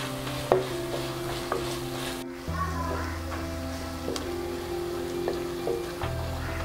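Garlic, ginger and onion fry in a pan for a Kerala-style pineapple fish curry, with steady sizzling and sharp scrapes of a spoon stirring through them, close and continuous.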